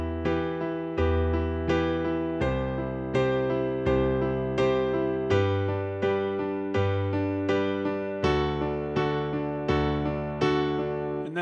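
Piano chord progression played with both hands, sustained chords changing roughly every second and a half with ringing bass notes beneath, clear and close with no voices.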